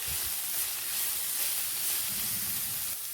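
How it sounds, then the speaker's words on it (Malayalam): Green chilli with ginger and garlic paste sautéing in a pan makes a soft, continuous hissing sizzle, fairly faint and steady throughout, with no voices. "നന്നായിട്ട് വഴറ്റിയെടുക്കാം."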